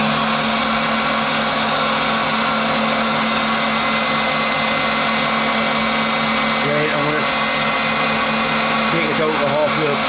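A small milling cutter feeding gently into a brake bleed valve on a machine, a loud continuous high whine with a steady motor hum, close and unbroken, with some voice activity mixed in.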